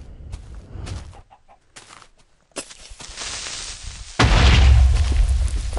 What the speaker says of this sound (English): The chickens are dying.